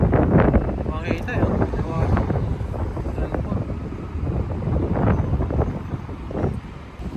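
Cold wind in Jeddah rumbles and buffets the microphone outdoors in continuous gusts, with a voice talking faintly beneath it.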